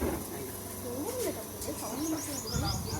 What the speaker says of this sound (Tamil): ஏதோ ஒரு பறவை மேலே இருக்குமாம்மா, வனமரத்தில் இருக்கலாம்.